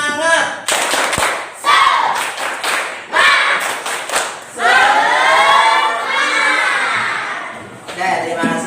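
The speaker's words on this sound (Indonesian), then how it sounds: "sebelum pembelajaran kita tepuk semangat dulu ya" A standing class of students doing a rhythmic spirit clap, bursts of unison clapping alternating with loud group chanting and shouting voices, close and energetic.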